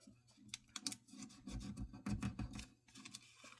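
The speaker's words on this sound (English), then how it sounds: "fold your little flap" Paper being creased and folded into an origami balloon, giving close, dry rustling and scraping bursts with short crinkly rubs, alone with no voices.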